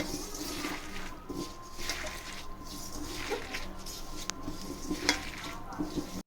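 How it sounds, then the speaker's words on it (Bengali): Chopped onion, tomato and salt stirred and mixed in a wok, with soft scraping, light clinks of a utensil and a faint sizzle, close and fairly quiet throughout. "সাথে একটু নুন দিয়ে ভালো করে মেখে নেব।"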